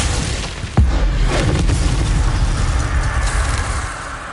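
Glacius ice spell cast in Hogwarts Legacy, a single sharp, loud impact with a deep rumbling boom, followed by a sustained dense wash of game noise and ambience.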